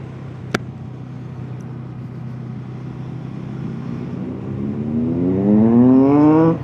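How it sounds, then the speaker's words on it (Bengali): Superbike exhaust on a highway during a Sunday group breakfast ride, a rising engine note that grows louder toward the end as the bike accelerates past, over steady road and wind rumble. "বাদিকে দেখা যাচ্ছে সুপার বাইকস, সেই এক্সস্টের আওয়াজ।"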